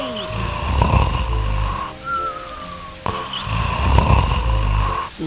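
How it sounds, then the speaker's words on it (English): An old man snores in a cartoon nursery rhyme scene: two long, loud, close snores, each a rumbling inhale, with a thin whistling exhale between them. "The old man is snoring."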